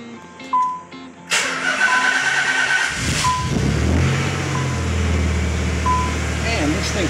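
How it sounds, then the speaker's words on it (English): A 1991 Nissan 300ZX Twin Turbo engine cranks and starts after a few beeps, then settles into a steady, low idle rumble close by. "Let's see what this baby sounds like."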